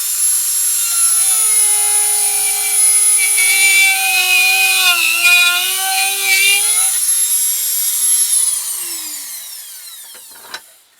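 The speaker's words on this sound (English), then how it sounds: "I want to bore this out a little bit so we can inset our screw" A power drill boring out a hole in carved wood for setting a screw on a ventriloquist dummy figure, a loud steady whine held for about eight seconds that then winds down, alone and close.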